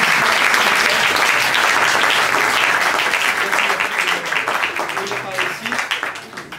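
A studio audience breaks into dense, loud applause to welcome a witness, steady at first and then thinning toward the end, with a voice faintly heard at the close.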